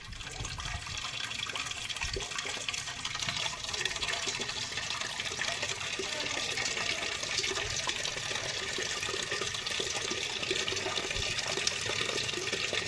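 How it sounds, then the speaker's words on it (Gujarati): Water runs steadily into a 5-litre container, filling about 3 litres, a constant splashing gush with no break, close and fairly loud throughout. "હવે હે ને આશરે 3 લીટર જેટલું પાણી ભરી લેવાનું"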